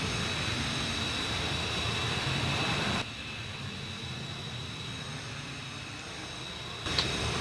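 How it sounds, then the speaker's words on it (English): Boeing 727-200 jet engines in Flight Simulator X hold a steady broadband roar with a faint high whine, dropping slightly in level partway through and continuing as a constant drone. "The wonderful and glorious aircraft that we're flying today is the legendary 727-200."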